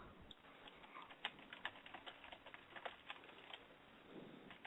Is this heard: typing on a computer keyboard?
yes